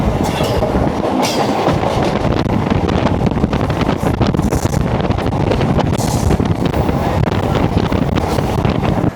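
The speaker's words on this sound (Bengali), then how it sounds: "আমরা হাওড়া থেকে ট্রেনে অলরেডি উঠে গেছি তারকেশ্বর লোকাল" Loud, steady rumble of a Howrah–Tarakeswar local passenger train in motion, with continuous rattling and clatter of the carriages and some wind buffeting throughout.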